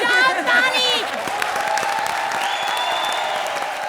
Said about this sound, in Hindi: बजाओ ताली भाई लोग, बजाओ ताली